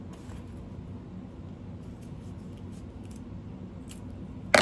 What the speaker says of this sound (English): once you snip into your zipper tape, always try to do a quick little singe on the ends